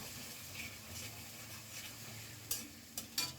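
Onions fry in oil in a karahi with a soft, low sizzle, broken near the end by a few sharp scraping and stirring clicks.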